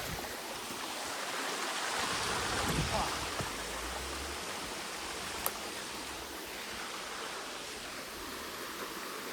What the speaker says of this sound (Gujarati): અહીંયા વોટરફોલ ચાલુ છે ત્યાં પાણી આવે છે